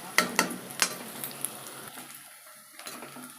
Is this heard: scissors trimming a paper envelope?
no